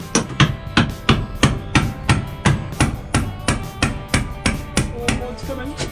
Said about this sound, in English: We're going to chisel it.